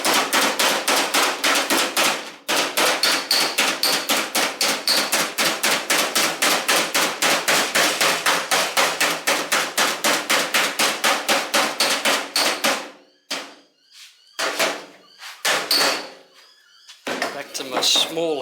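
A small round-head hammer rings against the steel edge of a 1966 Mustang door skin in a fast, even run of sharp metallic blows, then a few scattered strikes with gaps near the end.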